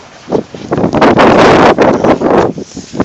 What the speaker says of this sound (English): the wind just like races across